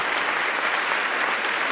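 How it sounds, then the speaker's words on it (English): Steady applause from a crowd, an even, close wash of clapping sustained throughout with no break. "round of applause for"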